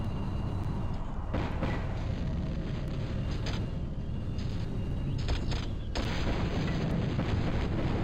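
Cannon shots at an enemy vehicle in the Battlezone tank game: repeated loud booming blasts over a steady engine-like rumble, with sharp bursts around one, three, five and six seconds.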